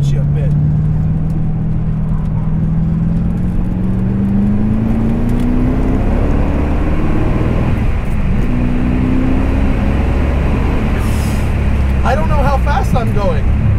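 A 1988 Callaway Twin Turbo C4 Corvette accelerates hard through third and fourth gear, its engine note rising steadily and loud from inside the car, with someone talking over it.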